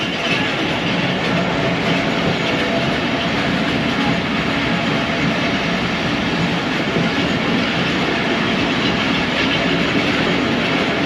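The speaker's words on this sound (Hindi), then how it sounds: "अब हमारी ट्रेन आगे की तरफ रवाना हो चुकी है" The Ravi Express rolls along between Lahore and Nankana, heard from on board as a loud, unbroken rumble of wheels and carriage noise that holds steady throughout with no talk.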